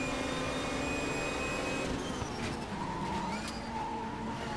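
Racing cars in a drag race in the Race 07 video game, 1992 BTCC round at Silverstone GP: steady droning engine whine with shifting tones, continuous and fairly quiet, no voices.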